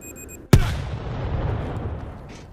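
A grenade blast in the zombie shooter World War Z, one sudden loud boom after a brief quiet moment, followed by a long rumbling tail that slowly fades.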